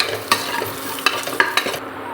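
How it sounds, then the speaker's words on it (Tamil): Chopped coriander stirred into hot oil with tomato paste for tomato rice, a faint steady sizzle broken by a few sharp spatula scrapes against the pan. "இப்போ வந்து கட் பண்ணி வச்சுருக்க கொத்தமல்லி தலையோடு சேர்த்து வதக்கிக்கணும்"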